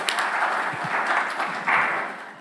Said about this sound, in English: Give once again the round of applause to